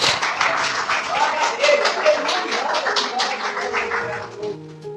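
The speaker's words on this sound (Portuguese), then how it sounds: "se coloca de pé e as palmas louve ao Senhor Jesus" Church congregation claps in praise, a dense, rhythmic wash of hands beating together throughout, fading slightly toward the end.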